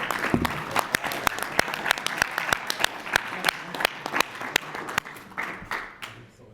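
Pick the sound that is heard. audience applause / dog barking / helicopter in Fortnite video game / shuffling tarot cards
audience applause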